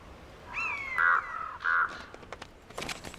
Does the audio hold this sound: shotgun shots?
no